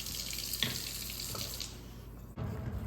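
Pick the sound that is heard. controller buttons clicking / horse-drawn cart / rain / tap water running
tap water running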